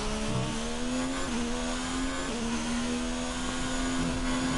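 A Formula 1 car engine roars steadily in F1 2019, a loud, sustained high-pitched whine with brief pitch shifts as gears change, heard alone with no talking.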